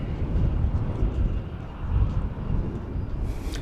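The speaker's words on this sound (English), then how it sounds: "And there goes the 747." A Boeing 747 airliner passes at night at DFW Airport, a loud continuous rumbling roar from a moderate distance that holds steady throughout, with some wind buffeting the microphone.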